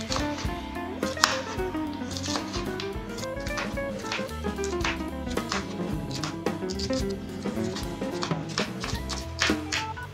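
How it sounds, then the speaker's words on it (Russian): A knife cuts bell pepper into thin strips on a board, with light, irregular taps of the blade heard under background music. "Перчик режем тоненькой соломочкой"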